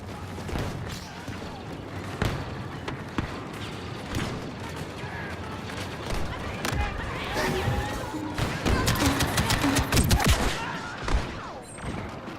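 A grenade barrage and gunfire rage in Star Wars Battlefront 2 Galactic Assault multiplayer, with repeated sharp shots and thudding blasts that build into a dense burst of explosions, and talk can be heard alongside.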